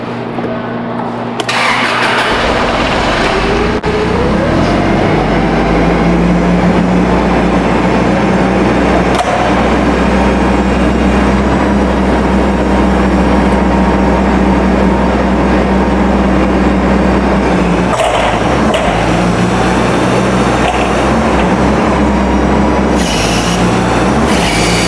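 A 2014 Toyota LP-powered cushion-tire forklift engine starts and then runs at a steady, loud idle with a constant low drone, alone and without talk.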